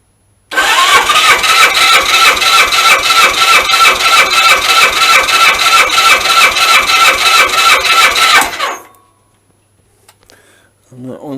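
A Suzuki GS1000 motorcycle engine cranks at full throttle in one loud, steady run of rapid rhythmic chugging lasting about eight seconds, then stops abruptly into near silence.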